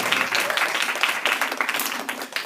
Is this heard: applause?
yes